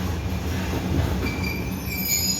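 Train wheels squeal loudly and continuously as a train moves along the elevated railway at Khon Kaen station, with a steady metallic rumble underneath and no voices.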